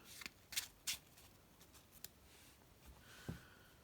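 A few quick riffles and flicks of playing cards being shuffled, close and soft, followed by a faint scrape and quiet pause.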